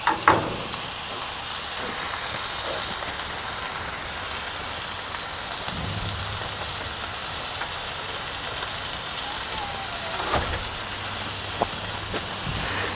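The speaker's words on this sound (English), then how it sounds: "Now that's a sear." Steak sears on a hybrid grill with a loud, steady sizzle and crackle that holds for the whole stretch, broken by a few faint clicks and pops, with no talking.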